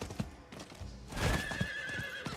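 A horse in Diablo 4 gallops with heavy, uneven hoof thuds, then lets out a loud, drawn-out whinny in the middle of the passage, close and clear over a rumbling game background.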